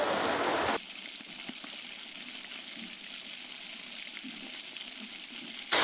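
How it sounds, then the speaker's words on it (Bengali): Potato pieces frying in a pan with already-browned onions make a loud burst of hissing at first, then a quieter, even crackle that continues alone with no talk. "পেঁয়াজটা পুরোপুরি ভাজা হয়ে গেছে, এবার আলুগুলো ছেড়ে দিচ্ছি।"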